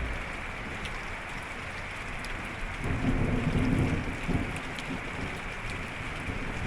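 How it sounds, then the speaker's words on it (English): Heavy rain pouring steadily during a thunderstorm, with a deep rumble of thunder swelling in the middle and fading back into the constant hiss of rainfall. "Watching the sheet lightning, listen to the thunder."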